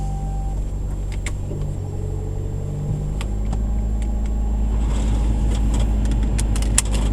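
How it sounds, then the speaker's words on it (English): A 1990 Toyota Corolla engine idles steadily in a hot garage with a squeaking AC belt, a constant close rumble with thin high squeals and a few ticks over the top. "AC belt's squeaking."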